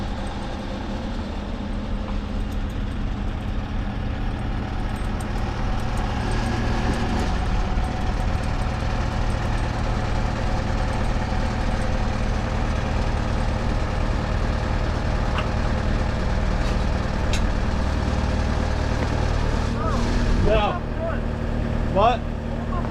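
A Ford F600 truck engine idles with a steady low diesel rumble while backing up a trailer, loud and continuous throughout, with a brief higher squeal near the end.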